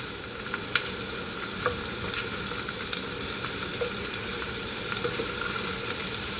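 Bitter gourd sautéed in a pan for Filipino ginisang ampalaya sizzles steadily while a utensil stirs it, with light scraping clicks scattered throughout at close range.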